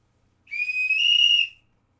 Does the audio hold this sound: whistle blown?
yes